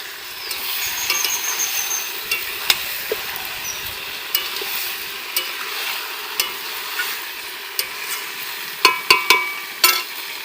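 Chicken sautéing in a pan with cumin powder, cooked village style: a steady sizzle with repeated scraping clicks of a spatula stirring against the pan, growing sharper toward the end.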